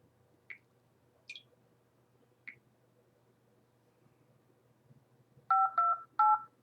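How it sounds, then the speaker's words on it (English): A telephone number is dialed on a phone keypad: three sparse single tones spaced apart, then a quick cluster of three louder dual-pitched beeps near the end, over a quiet room hum. "Let's see if we can get this guy on the phone."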